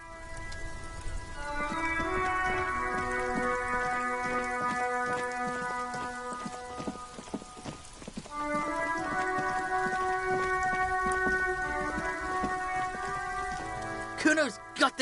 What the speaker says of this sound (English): It's raining. It was clear just an hour ago.